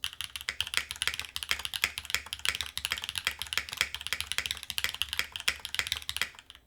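Fast, steady typing on a bottom-mount TB-65F mechanical keyboard, with dense clacking keystrokes close up and a slightly hollow, plasticky tone throughout.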